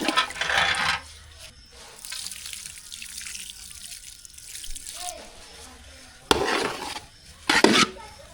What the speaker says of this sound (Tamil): இப்போ லெமன் சாதம் கிண்ட ஆரம்பிச்சிடலாம்.